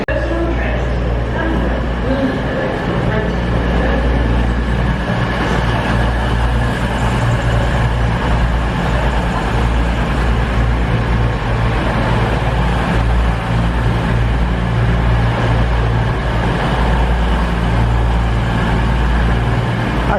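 A train bound for London St Pancras rumbles past nearby in the opposite direction with a heavy, continuous low roar and rattling, loud and sustained throughout; voices are faintly mixed in.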